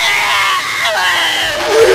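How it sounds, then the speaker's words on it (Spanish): Distant, crowd-like screams and yells echo through the Playcare area in the horror game Poppy Playtime Chapter 3, a steady wash of voices lasting about two seconds. "¡Ay, escuché los gritos!"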